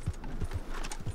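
Horse hooves on the ground in the video game Red Dead Redemption 2, a run of soft, evenly spaced thuds at a walking pace, faint and close, with no talk.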